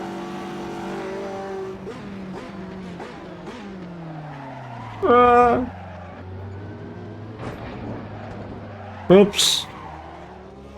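A race car in a sim racing video game shifts through rising and falling engine notes, then its tires squeal sharply under braking in two loud bursts. Someone briefly speaks over it.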